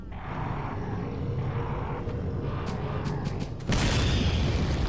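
A grenade explosion in Resident Evil 4 sounds as a loud, sudden boom that cuts in near the end after a stretch of dense rumbling game noise, close and heavy with a roaring tail.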